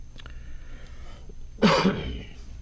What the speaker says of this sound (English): Mind if I cough?